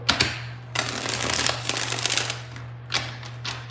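Tarot cards being shuffled in a small echoing room: bursts of crisp riffling and flicking, one short and two longer, close by over a steady low electrical hum.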